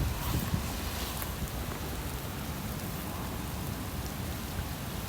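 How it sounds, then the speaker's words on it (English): Heavy rain pours steadily during a bass fishing outing in Houston, Texas, a dense, loud, unbroken hiss of drops drumming on a nearby surface with no pause. "It's raining too much under this."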